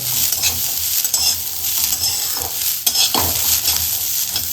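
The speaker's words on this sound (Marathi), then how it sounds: "आपल्या इकडे वाटाणे फ्राय होत आहे आपण लो मग फ्राय करतोय" Fresh green peas frying in a pan for a pea chutney, a continuous loud sizzle with repeated scraping stirs of a utensil against the pan, no talking.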